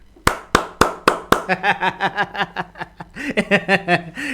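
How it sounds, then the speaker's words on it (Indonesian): Five sharp, close hand claps in quick succession, spoken by a host during Indonesian political news commentary, followed by a run of rhythmic chuckling laughter that pulses on to the end. "Saya boleh tepuk tangan ya?"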